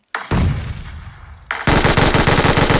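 Gunfire in the PUBG Mobile video game: two loud, close bursts of rapid automatic shots, the second longer and denser.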